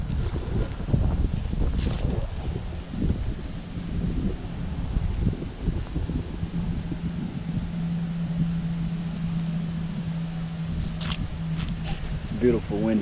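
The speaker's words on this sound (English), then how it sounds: "Beautiful windy day though." Wind gusts buffet the microphone with a low rumbling roar that rises and falls during an outdoor shoot of a Dodge Charger on 28-inch wheels, while someone talks intermittently over it and a faint engine-like hum lingers.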